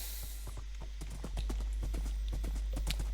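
Hooves of a horse galloping in Minecraft clip-clop in a steady, fast rhythm, loud and close, with a thin high hiss fading out early and the beat growing slightly denser later.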